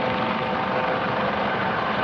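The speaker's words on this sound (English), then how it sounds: "If you hear that chopper in the background, the Coast Guard is doing" A Coast Guard helicopter flying water-rescue training passes overhead, its steady, loud rotor drone filling the air.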